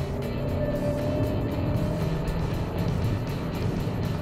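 Hyundai Creta N Line engine in sports mode, a steady close cabin drone with a low rumble and faint tonal hum running throughout, no clear revving peaks.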